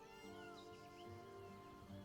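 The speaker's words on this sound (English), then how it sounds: "I keep hearing a cat. Is there a cat?" A cat meowing within the fantasy role-playing game Baldur's Gate 3, several drawn-out, wavering meows heard over a steady bed of ambient game music.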